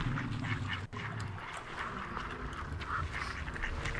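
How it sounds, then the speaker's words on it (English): Ducks quacking in the video game Hunt: Showdown: a faint, scattered run of quacks and honks over a low ambient game background, with no talk. "Oh, they're ducks."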